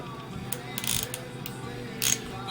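Hand tool cracking loose the screws on a Holley 4160 600 cfm carburetor during an overhaul, giving a few short bright metallic clicks and ratchet-like snaps over a steady low background hum.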